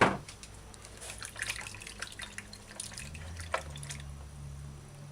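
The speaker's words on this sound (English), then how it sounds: "rinse your Bulgar with some water, running water, and white vinegar" Running water trickles and drips steadily as bulgur wheat is rinsed in a sink, with faint splashes and clinks near the start and a low hum underneath.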